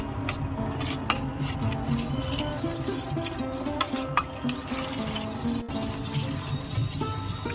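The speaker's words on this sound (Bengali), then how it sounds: "এইভাবে ভালো করে একটু নাড়াচাড়া করে নেব" A food mixture of semolina, sour yogurt, sugar and salt being stirred with a spoon in a pan or bowl, close continuous scraping and rubbing with a couple of sharp metallic knocks, no voices.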